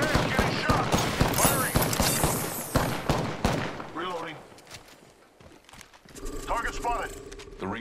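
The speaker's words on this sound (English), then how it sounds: "Damn, getting shot. Firing." Apex Legends gunfire comes as rapid bursts of sharp shots packed closely together, loud and dense at first. The shooting thins into scattered mechanical clicks and clatter before a brief electronic tone near the end.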